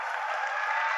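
Audience applause at a Gurukul seminar on options trading comes through as a steady, fairly faint wash of clapping from a crowd, unbroken for about a second.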